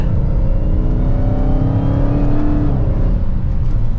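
A Dodge Charger SRT Hellcat Widebody engine revs up with a rising, throaty roar as it accelerates, loud and close, then eases off.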